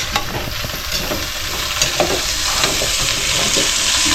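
Steady loud sizzle of food sautéing in hot cooking oil inside a lidded pot, a continuous crackling hiss with faint stirring scrapes throughout.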